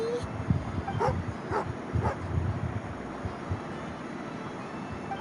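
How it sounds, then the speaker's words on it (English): Angry dog in a video game giving a few short barks and yips in the first two seconds, fairly close, over a low rumbling background that continues alone afterward. "Oh, angry doggy."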